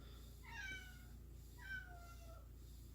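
A house cat meows twice indoors, two clear drawn-out calls about a second apart over a steady low background hum, with no one talking.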